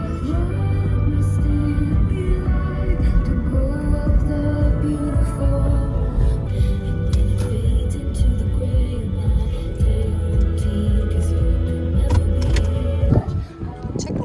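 A car driving across a dam in Tennessee, its steady road and engine rumble loud and continuous throughout, with faint rattling inside the cabin and a brief bump near the end.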